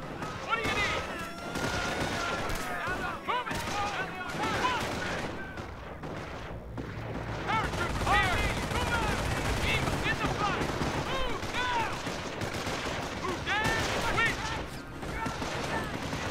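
Rapid rifle and machine-gun fire crackles through a Company of Heroes battle at a V2 base, with dense bursts, distant booms and layered combat chaos running continuously, while soldiers' voices shout over the noise.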